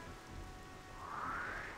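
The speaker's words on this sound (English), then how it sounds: "this actually looks pretty cool when it's raining" Rain falls at night in the video game Xenoblade Chronicles Definitive Edition, a soft, steady patter on surfaces with a faint rising tone in the background.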